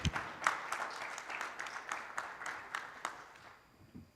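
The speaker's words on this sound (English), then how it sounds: "Can we have a good round of applause?" Round of applause at an international iron ore industry conference, a thin, fairly quiet patter of scattered hand claps with a few sharper claps, tapering off toward the end.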